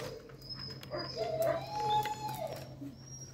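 An injured dog on a chain whimpers in thin, high whines that rise and fall over a couple of seconds, fairly faint, against a low steady hum.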